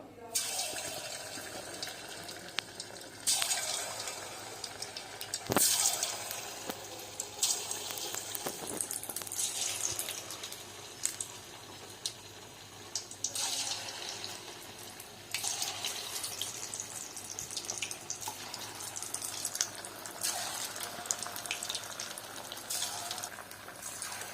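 Paneer 65 pieces dropped one by one into hot oil, sizzling and crackling in bursts that flare up with each addition, fairly quiet with a few clinks.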